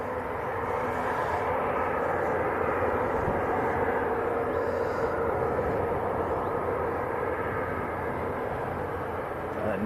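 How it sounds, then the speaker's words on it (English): EasyJet jet airliner on its takeoff at Manchester Airport, a broad continuous engine roar heard from a distance and holding steady throughout without voices. "we've got EasyJet about to line up and take off"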